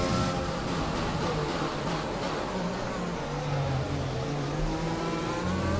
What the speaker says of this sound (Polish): Ten moment wciśnięcia gazu, jak się pierwszy zakręt pokona, trzeba na to uważać.